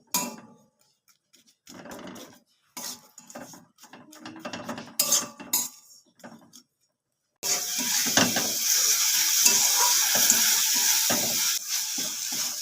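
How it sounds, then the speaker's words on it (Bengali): A utensil scrapes and knocks in a pan as grated coconut is stirred with sugarcane jaggery into a sweet filling, first in scattered close taps, then giving way to a continuous sizzling hiss. "এই নারকেল কোড়ার গুড়টা আমি নেড়ে চেড়ে একটা পুর বানিয়ে নেব"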